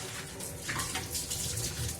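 Tap water runs steadily into plastic bottles being filled in a home kitchen, a continuous splashing hiss that swells briefly partway through, with no talking.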